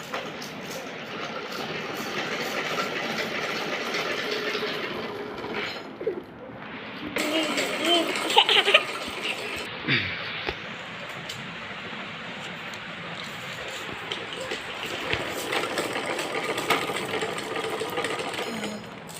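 A sewing machine stitches fabric in a long steady whir, pausing briefly around the middle before running on again, close and fairly loud.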